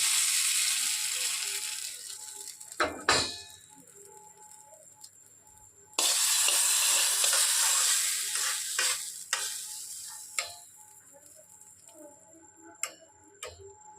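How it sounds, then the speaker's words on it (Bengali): Hot tadka tempering poured into chutney hisses loudly in two strong sizzling bursts that fade away, with sharp clinks of a spoon or pan in between and no talking. "এরপর আমি এই চাটনির মধ্যে এই তড়কাটা ঢেলে দিচ্ছি।"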